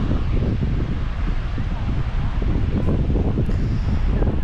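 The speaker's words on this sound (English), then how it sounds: "hear the sound of the waves" Ocean surf washes in at Far Rockaway Beach. A loud, continuous rush of waves blends with heavy wind buffeting the microphone, and there is no speech.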